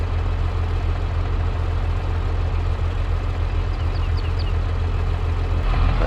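A tractor engine in Farming Simulator 22 drones steadily at idle, a loud, even low rumble that holds unchanged throughout with no talk over it.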